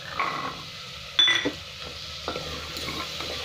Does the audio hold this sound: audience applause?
no